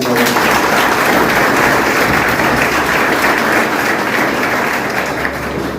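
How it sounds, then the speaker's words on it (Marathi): A lecture audience at a career academy claps loudly and steadily, a dense continuous roar of applause that holds throughout, easing only slightly at the very end. "एकदा जोरात टाळ्या"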